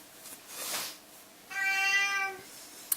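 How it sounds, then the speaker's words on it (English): A soft rustle, then one long, loud, drawn-out cat meow close by, ending with a small click. "We got a really loud cat in here."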